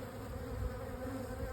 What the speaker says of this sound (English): They've got little bee flapping and whatnot with their wings that give vibrations and sounds for all sorts of different things.